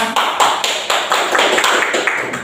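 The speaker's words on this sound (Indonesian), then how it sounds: "beri aplaus untuk kelompok pena" Students in a classroom applaud a group in a quick burst of rhythmic clapping, nearby and fairly loud, with several hands striking together in a steady beat.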